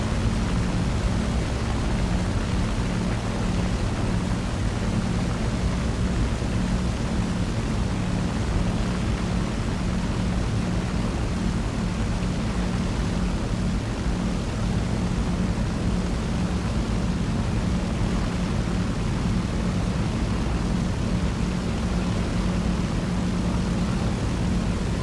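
Propeller plane engine in War Thunder, an unupgraded fighter climbing hard after takeoff, giving a steady, loud droning roar with a low throbbing hum that holds unbroken throughout, no voices.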